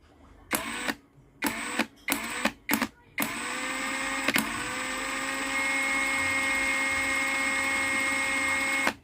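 A power tool runs at its lowest speed setting. It starts with several short on-off bursts, then settles into a steady, close, tonal whine that holds to the end.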